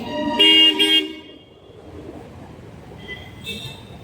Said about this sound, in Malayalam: എയർപോർട്ടിലേക്ക് വരുന്ന വണ്ടികളാ.